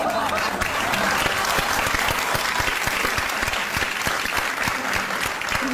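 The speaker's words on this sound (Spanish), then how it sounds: "Oye, yo no sé por qué ustedes están aplaudiendo." Loud, dense audience applause at a comedy show with a Chilean impressionist on stage, continuous heavy clapping that fills the whole stretch evenly, with no clear speech over it.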